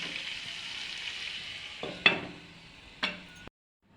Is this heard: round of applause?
no